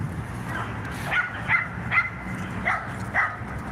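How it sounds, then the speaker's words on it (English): Dogs in an outdoor dog park giving a handful of short distant yips and barks, spaced irregularly over a steady low background of outdoor ambience. "Some dogs in the dog park."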